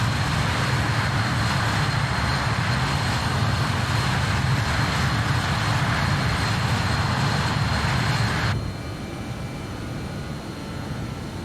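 Loud, steady roar of a BAe 146 airliner's jet engines during its takeoff climb in a flight simulator, heavy low rumble and broadband hiss that drops suddenly to a quieter level near the end.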